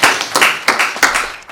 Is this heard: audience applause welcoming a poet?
yes